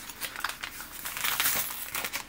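A paper bag crinkles and rustles close by in quiet, irregular bursts of crackling over a couple of seconds, with no talking.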